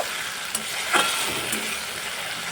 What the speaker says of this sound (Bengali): টমেটো পেস্টটা দিয়ে একটু কষিয়ে নেব